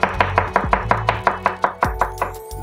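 A knife slices shallots on a cutting board while camp cooking, a dozen or so crisp, evenly spaced chops, close and loud, with no talking.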